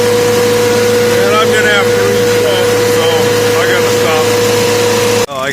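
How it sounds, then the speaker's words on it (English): An old car engine with a long-lost original oil cap idles steadily after a restart during a teardown. A constant drone holds throughout, with whining, voice-like tones over it before a sudden cut near the end. "Then hopefully see if I can make this engine run again."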